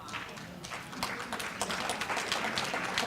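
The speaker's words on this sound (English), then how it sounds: "she deserves an applause for that" An audience at a city address breaks into applause. It is a dense patter of clapping that builds and holds steady, close and fairly loud.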